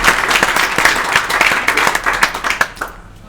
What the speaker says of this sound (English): Round of applause for Matt, everybody.